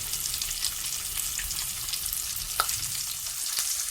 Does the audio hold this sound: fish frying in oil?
yes